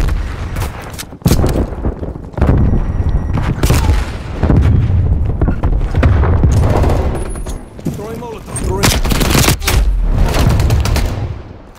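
Frag grenade explosions amid a Call of Duty Black Ops Cold War Raid Domination multiplayer match, with repeated loud booms and sharp bursts mixed with rapid gunfire over almost twelve seconds.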